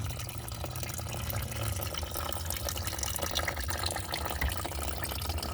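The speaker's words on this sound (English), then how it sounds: "you put your container underneath, and the coolant will fall right in" Coolant drains from the radiator drain valve of a 2003-2005 Honda Pilot V6 into a container below, a faint continuous trickle and splash of liquid running steadily with no talk.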